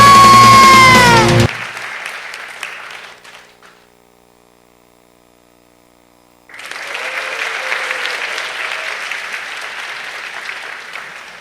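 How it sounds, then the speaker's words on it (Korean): A church congregation breaks into loud applause at a Sunday evening service, a sustained burst that fades into quiet for a few seconds before a second, steady round of clapping swells up again. "우리 다시 한번 교회 학교 위해서 큰 박수 부탁드리겠습니다."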